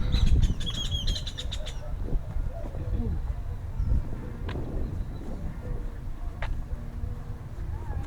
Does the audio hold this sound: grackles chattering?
yes